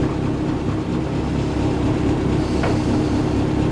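A Mini Cooper 1275 S with a straight-cut gearbox idles steadily at about 1,000 RPM, a loud, close, even engine rumble running throughout with no talk.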